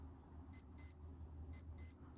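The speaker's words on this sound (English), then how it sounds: "That's what the alarm sounds like." Casio digital watch alarm sounding as two pairs of short, high electronic beeps, close and clear over a faint background hiss.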